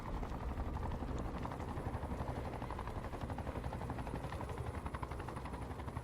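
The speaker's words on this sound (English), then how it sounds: "Is this helicopter friendly?" A helicopter's rotor thumps steadily at close range in the video game Batman: Arkham Knight, a constant chopping drone that stays loud throughout.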